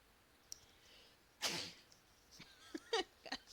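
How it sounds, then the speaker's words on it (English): One sharp, fairly close sneeze bursts out over a quiet background, followed by a few brief, softer sniffs and vocal noises. "I was not prepared to sneeze."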